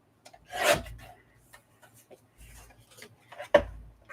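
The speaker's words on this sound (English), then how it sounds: "Let's cut this piece to the 5 inches that we know we can on this trimmer." A paper trimmer slices a piece of journal paper in two short, rasping strokes, close and quiet, separated by soft handling sounds.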